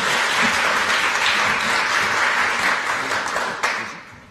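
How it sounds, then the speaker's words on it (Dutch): An audience at a public conversation event applauds with steady, dense clapping that fills the room, holds evenly for several seconds and then tapers off near the end. "En applaus nogmaals voor Vita."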